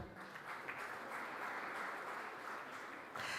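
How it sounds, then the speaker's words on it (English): Audience applause at a family business awards ceremony, a steady dense wash of clapping from a large crowd that holds evenly throughout and swells slightly at the very end. "A warm round of applause for them"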